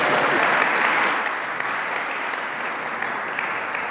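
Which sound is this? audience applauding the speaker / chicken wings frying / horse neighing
audience applauding the speaker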